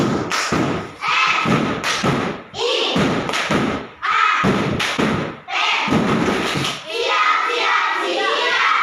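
Schoolchildren in a classroom do a rhythmic chant-and-clap routine, loud bursts of claps and thumps in patterned groups with brief gaps, young voices chanting along.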